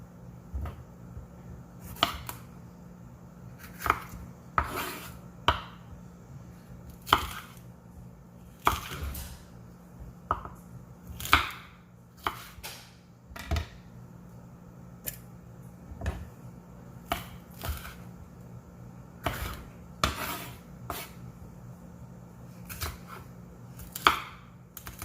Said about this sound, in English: I just chop them up in little pieces.